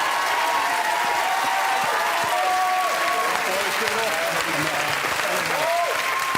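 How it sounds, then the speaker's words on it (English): A studio audience on the BBC game show Friends Like These breaks into dense, sustained applause and cheering that stays loud and steady from start to finish. "Let's cheer for him. A round of applause."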